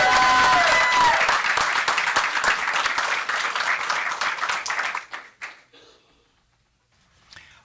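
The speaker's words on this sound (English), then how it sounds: "let's give one amazing round of applause over there." Audience applause at a school board meeting, a dense burst of clapping that fills the room for about five seconds, then thins out and fades to near silence, with a few voices mixed in at the start.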